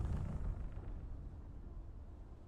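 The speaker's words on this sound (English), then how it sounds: "you get big spice explosions out in the desert" Big spice explosion rumbling out in the open desert in the video game Dune Awakening, a deep booming roar that swells at the start and then settles into a long, steady low rumble with no voices.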